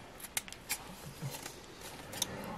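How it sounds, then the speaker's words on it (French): A pair of scissors snips through a ribbon in a few quick, faint cuts, close and quiet, with short gaps between them. "Ma paire de ciseaux."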